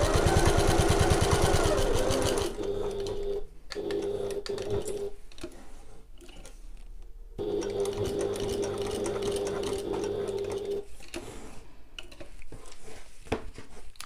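Stitching along the edges of an oval fabric bag, a sewing machine hums in steady runs, stopping briefly for pivots at the corners before starting again, close and clear.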